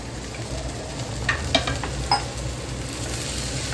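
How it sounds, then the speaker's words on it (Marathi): Brinjals sautéing with masala in a pan, giving a continuous even sizzle with a few light clinks of a spoon stirring partway through. "ही मस्तपैकी परतून द्यायची त्याच्यावरती"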